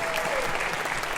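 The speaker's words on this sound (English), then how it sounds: "Let's give the judges one more round of applause." Audience at a high school battle of the bands applauding the judges, a brief burst of steady crowd clapping with a faint voice briefly over it.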